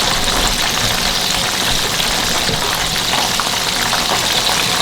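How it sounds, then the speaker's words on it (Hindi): Chicken drumsticks frying in hot oil produce a loud, dense, steady sizzle with a rough bubbling crackle, close up and unbroken, with no speech over it. "तकरीबन 14-15 मिनट लगेंगे इनको फ्राई में।"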